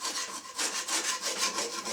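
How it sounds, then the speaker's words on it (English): Scraping down a big heavy wooden fence post by hand, heard as close, steady back-and-forth rasping strokes in a quick, regular rhythm with no talking. "So I started scraping it down and cleaning it up and stripping off the pieces I don't need and pulling out the nails."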